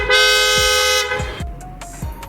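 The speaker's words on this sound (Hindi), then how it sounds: "अब मैं आपको इसके हॉर्न का रिस्पॉन्स एक बारी फिर से सुनाता हूँ" Hyundai Creta-type car horn, freshly installed with the bumper refitted, blares loud and bright in one long sustained blast, then gives three short honks, close by with no talking.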